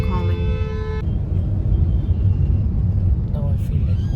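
Car horns blare in Bangkok traffic, one long loud harmonic honk in the first second over a steady road rumble, with a shorter, fainter toot near the end.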